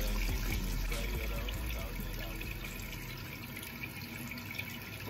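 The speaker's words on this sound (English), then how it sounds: "wash my face in the shower" Shower water running steadily while someone washes their face, a continuous hiss and splash of spray that is fairly quiet and eases slightly after the first couple of seconds, with no speech.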